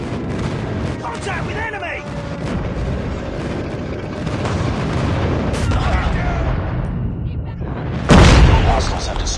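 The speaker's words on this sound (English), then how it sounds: "Codm airstrike incoming." Airstrike blasts in the Call of Duty Mobile ground war mode rumble through dense game combat, with a loud explosive burst near the end, under continuous battle noise and a voiced callout.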